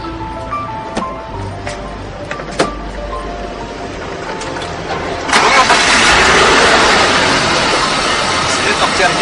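A car engine cranks and catches, then settles into a loud, steady idle; voices are heard in the background before the engine starts.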